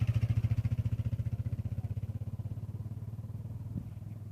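A motorcycle engine runs as someone learns to ride, its fast chugging pulse loud and close at first, then steadying and softening with a small clunk near the end, and no voices.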